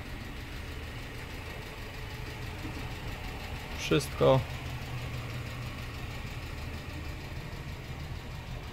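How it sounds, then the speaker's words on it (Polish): A steady low idle from an Opel Astra G engine after a spark plug change hums throughout, with a brief spoken word and a couple of clicks partway through. "na sam koniec możemy już uruchomić silnik"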